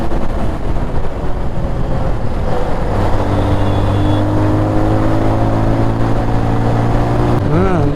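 Motorbike engine on a night ride, a loud continuous drone with a low hum that steadily rises in pitch as the bike picks up speed, with wind rush blended in.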